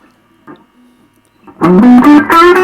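An electric guitar plays through a Roland Cube 40 amp with distortion and the volume at maximum. Faint noises come first, then a loud burst of crunchy, sustained notes.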